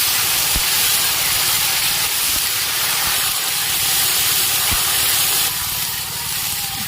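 Ginger paste hits hot oil in a picnic cooking pot for tempering dal, a loud, dense, steady hiss with faint clinks and a low rumble underneath, no voices.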